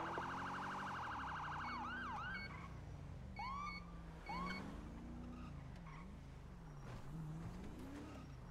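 A wailing emergency siren sweeps up and down in repeated yelps over the low rumble of a moving vehicle, fairly close and steady.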